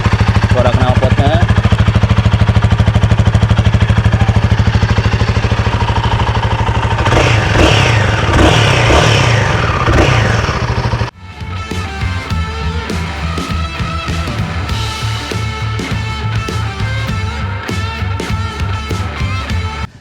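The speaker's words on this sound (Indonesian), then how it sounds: "Ini suara mesinnya, suara knalpotnya." A Royal Enfield Himalayan 450 motorcycle engine and exhaust run loud and close, with a throbbing idle and some changes in revs. Partway through, the sound shifts to sharper rattling, clicking pulses.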